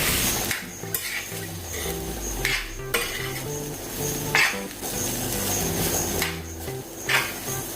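Potato filling with green coriander, kasuri methi and salt being mixed in a bowl for bakery-style patties; a steady run of scraping, clinking and knocking of a spoon against the bowl, close and moderately loud, with no voices.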